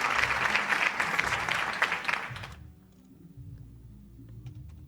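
Warm applause from an audience of schoolchildren and spectators at a primary school quiz competition, dense clapping that stops abruptly midway and gives way to quiet room noise.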